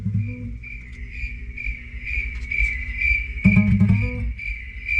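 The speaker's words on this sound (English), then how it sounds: "Hey, my phone's ringing." A mobile phone rings with a chirping, cricket-like electronic tone repeating in short bursts, moderately loud against a low rumble, with a brief louder harmonic burst near the end.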